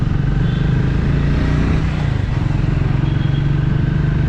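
A Triumph Speed T4 400cc motorcycle being ridden, its engine holding a steady, loud, smooth drone at close range with a faint rhythmic pulse and no voices.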